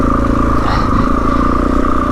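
A Suzuki DRZ400E dirt bike on a country green lane holds a steady, loud engine note with a brief rise in revs, close by and continuous.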